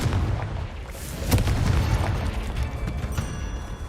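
A Confringo spell blast in Hogwarts Legacy rumbles as a loud, sustained burst, with a sharper crack near the middle that fades into a rolling, noisy tail.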